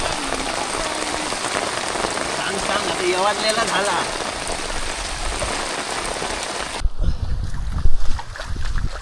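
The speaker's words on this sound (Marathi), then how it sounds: "कसलो बेकार पाऊस हवा का" Heavy rain patters steadily across rice fields in the Konkan countryside, a dense hiss that cuts off near the end, with a person speaking briefly over it.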